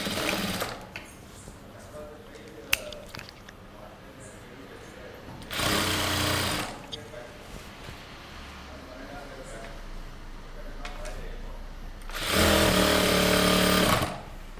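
Sewing machine stitching a boat neck kurta hem at one and a half inches: two close, buzzing rapid-stitch bursts of about a second or two each, separated by quieter stretches with talk in between.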